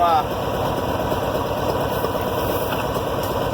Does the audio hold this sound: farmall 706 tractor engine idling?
yes